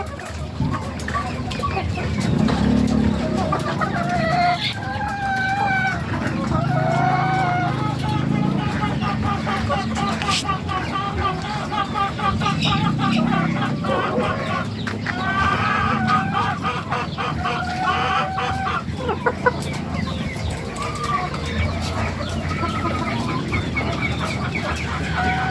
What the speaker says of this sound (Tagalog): meron pa akong 16 na manok